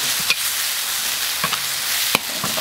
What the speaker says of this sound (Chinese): 再把牛肉下锅啊！